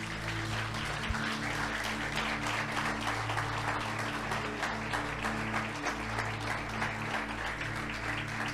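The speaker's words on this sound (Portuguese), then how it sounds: "Pode dar um aplauso a Jesus por isso." A church congregation applauding for Jesus during a sermon, steady massed clapping over a low sustained musical drone.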